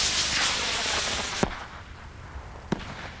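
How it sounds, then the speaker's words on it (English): Firework shells from a 1988 display burst with two sharp, loud bangs, well spaced, over a steady crackling hiss that fades after the first blast. "Now those noisy ones are the shells going off."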